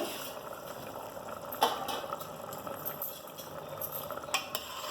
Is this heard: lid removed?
yes